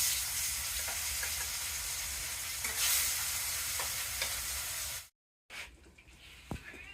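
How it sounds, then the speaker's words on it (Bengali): Fish sizzles steadily in hot oil in a home kitchen, a loud continuous frying hiss with occasional stirring scrapes, briefly cut off then resuming more faintly with a sharp clink near the end. "মাছ ভাজি হয়ে গেছে, এগুলো নামিয়ে নিব, নামিয়ে বাকিগুলা দিয়ে দিব।"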